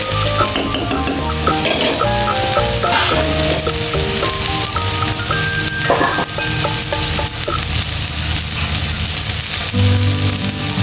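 Sliced okra and coconut fry in a pan with a constant close sizzle while a utensil stirs and scrapes them in irregular clinks and rattles, with no voices.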